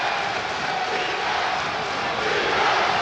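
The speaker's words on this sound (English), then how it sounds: "Camden crowd coming alive." A basketball crowd at the Camden versus Seton Hall Prep tournament final roars in a steady, loud wall of cheering and shouting that fills the gym without letup.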